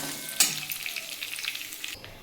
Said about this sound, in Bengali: আমার কাজু কিশমিশটা ভাজা হয়ে গেছে